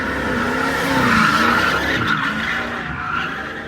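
Tires skid and squeal as a big Ford F-250 farm truck drifts at a drift car event, the engine roaring loudly and close throughout with a sustained rough screech.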